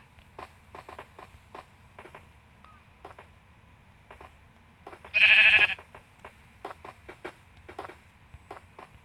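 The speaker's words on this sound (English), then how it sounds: "There's sheep here." Sheep in a video game give short bleats, with one louder, longer bleat standing out midway among soft repeated game clicks and blips.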